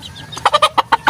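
Chickens and chicks clucking close by, a quick series of about six sharp, loud clucks in a rapid rhythm, with faint peeping in the background and no talk.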